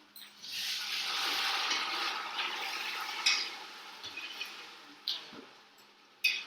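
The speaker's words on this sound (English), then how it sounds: "I'm gonna add a little bit of water to release the color from the onions." Water goes into a hot pan of caramelized onions and sets off a soft hiss and sizzle that fades slowly, followed by a few faint stirring clinks and scrapes.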